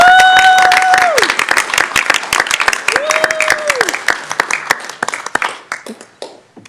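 Crowd applause with many hands clapping at a city council meeting, loud at first and gradually thinning out, with a voice speaking over it.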